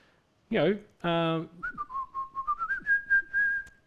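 A person whistles a tune, the song Dixie, starting with two sharp separate notes and then running into a quick series of wavering melodic notes, close and clear with no talk over it.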